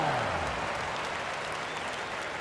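Crowd applause in an NBA 2K25 basketball video game, a broad wash of clapping and cheering that swells at the start and then holds steady throughout.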